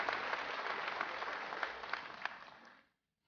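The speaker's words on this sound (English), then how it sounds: "Let's give one more round of applause." An audience at a Mr BG 2018 judged contest claps steadily in a dense, loud round of applause lasting under three seconds, then stops abruptly into silence.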